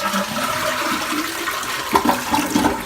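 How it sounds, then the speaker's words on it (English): Toilet flushing after a new fill valve and flapper were installed, a steady rushing swirl of water lasting the whole stretch, with a few louder gurgling surges toward the end as the bowl drains. "Toilet's flushing nicely."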